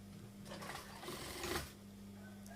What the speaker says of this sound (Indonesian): kita jahit untuk bahan manset di bawah, untuk tangannya di atas ya.